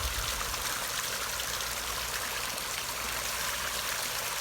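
Water running into a pond skimmer bin as it fills and drains, a steady close rush and trickle with no break and no voices.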